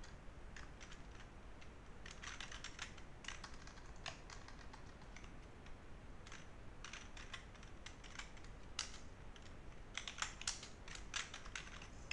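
Rapid, uneven clatter of computer keys being typed in bursts, fairly close and steady across the whole stretch with no one speaking.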